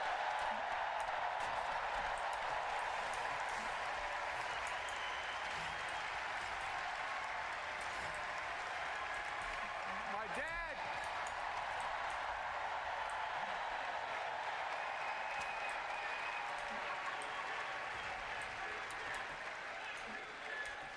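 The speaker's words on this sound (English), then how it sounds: "Let's give a special round of applause to our First Lady, Jill Biden." An audience fills the space with continuous, even applause for First Lady Jill Biden, a broad wash of clapping heard from a distance that holds steady throughout with crowd murmur beneath it.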